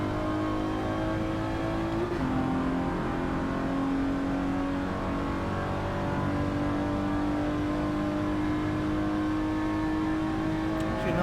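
Race car engines in Forza 7 drone steadily and loud, a sustained whine holding pitch with small shifts as the cars run through corners and a high-speed section, with no one talking.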